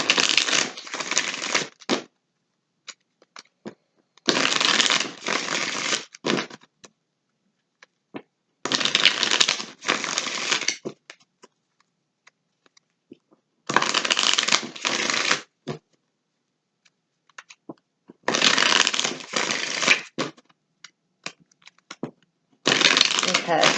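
A deck of tarot cards is shuffled in six loud, close riffling bursts of about two seconds each, separated by quiet pauses with faint handling.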